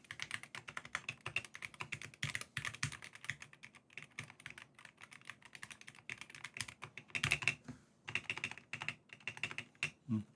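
Rapid, irregular clacking from a mechanical keyboard fitted with brown switches, keystrokes arriving in quick bursts and short pauses, close and fairly quiet with no voices.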